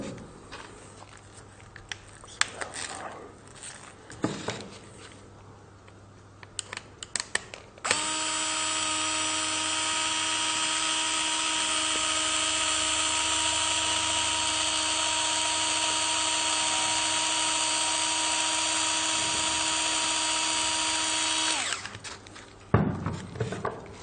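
A power drill whines steadily for roughly fourteen seconds while driving a screw into a workshop project, preceded and followed by scattered handling clicks and knocks close by.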